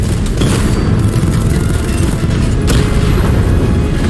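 A drone blowing up in Batman: Arkham Knight, a loud sustained booming rumble with crackling debris that holds steady for the whole few seconds, no voices.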